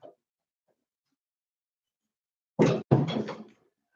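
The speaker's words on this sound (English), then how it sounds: "I should probably close the door in just a minute" A door being closed at home, a near, fairly loud double thud with a short scraping sweep after a long stretch of near silence.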